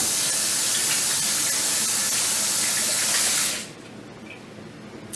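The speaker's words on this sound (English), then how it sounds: "So I'm going to wash my hands just real quick." Tap water runs hard into a kitchen sink as hands are washed, a loud steady splashing hiss that cuts off abruptly near the end and leaves quiet room tone.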